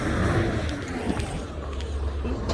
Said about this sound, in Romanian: Camionul cu lemne.